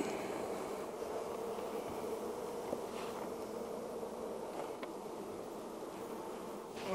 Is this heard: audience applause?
no